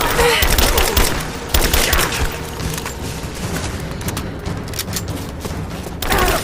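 Heavy gunfire and rumbling impacts fill a firefight in the Rise of the Tomb Raider video game, a loud, continuous barrage with thuds and crackling bursts throughout.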